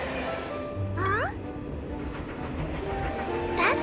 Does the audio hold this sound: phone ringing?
no